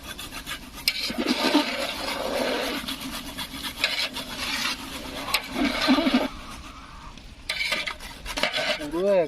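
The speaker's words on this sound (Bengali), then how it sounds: "জায়ফলটা ঘষে দেবো।" Whole nutmeg is rasped over a grater into a pot of chicken korma, giving repeated scratchy scraping strokes in uneven bursts, fairly close and steady, with no talking.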